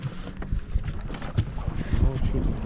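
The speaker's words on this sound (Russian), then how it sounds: "Ну, что тут у нас мотор-то?" A motor boat engine drones on a pike fishing trip, its hum mixed with wind buffeting the microphone and water noise, while a voice briefly cuts in near the end.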